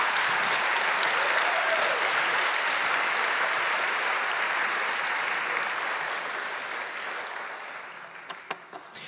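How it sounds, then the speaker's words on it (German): An audience at a live geology stage show in Bonn claps loudly for a professor, a dense, sustained wash of applause that slowly fades toward the end with a few scattered last claps. "einen tollen Applaus für Professor Hoch"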